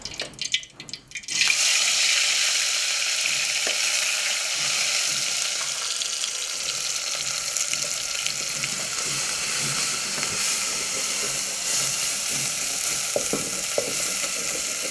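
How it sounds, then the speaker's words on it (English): Ginger, garlic and onions fry in hot oil in a village kitchen, a steady close sizzle that begins abruptly and holds, with occasional faint clinks and drips and no talking. "this is a mixture of ginger, garlic and onions, which we're going to fry here"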